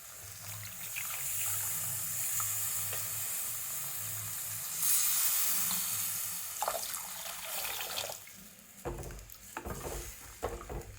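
Water pours and hisses into a hot pan while cooking amla (gooseberry) rasam, a steady sizzling wash that fades into clattering stirring and small knocks near the end.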